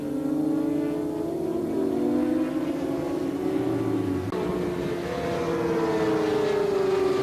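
Yamaha and Suzuki racing motorcycles scream along a track during an endurance race, engines rising and falling in pitch as several bikes pass, loud and continuous with no talk.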